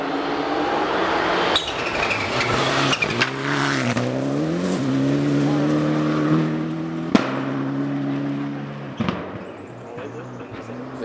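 A Mitsubishi Mirage rally car blasts past on a special stage, its engine climbing through several sharp upshifts with crackles and pops, loud and close, then fading into the distance while spectators talk.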